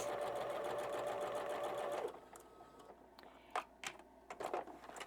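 A sewing machine stitches quilt fabric in a rapid, even run for about two seconds, close up, then stops, followed by a few soft clicks and handling noises.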